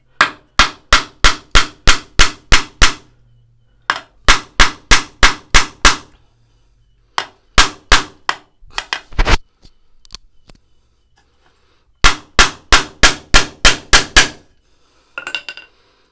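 A hand-made hammer drives nails in quick even runs of sharp strikes, loud and close, with brief pauses and a scrape between volleys.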